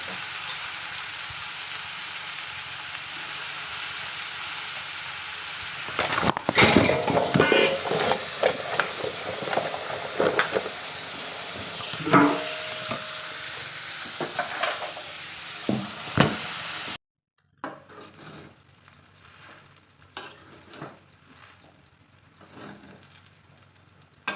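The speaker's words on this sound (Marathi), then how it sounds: "मी असंच थोडं फोडी करून परतून घेतात असते तुपात" Boiled potato pieces sauté in ghee with a steady, close sizzle, broken by scraping and stirring clatter midway before the frying settles into a quieter crackle.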